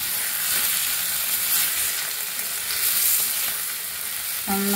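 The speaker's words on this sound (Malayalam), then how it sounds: "നന്നായിട്ട് ഇളക്കി കൊടുക്കുക." Food frying in a pan gives a loud, dense, continuous sizzle and crackle, with a faint stirring sound and a short clatter at the very end.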